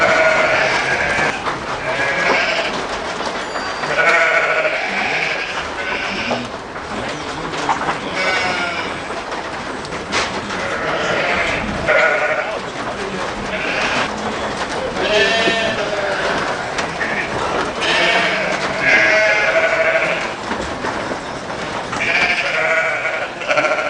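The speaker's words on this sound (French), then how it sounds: "Le mouton est bien plus qu'un simple acteur des Highlands." Sheep bleat repeatedly in the Scottish Highlands, a loud, overlapping chorus of calls from several animals that continues throughout, with faint talk now and then.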